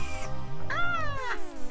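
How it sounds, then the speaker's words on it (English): A cat meows in the video game Mother 3, two clear drawn-out meows close up with a short pause between them. "Hey, Kiko Cat."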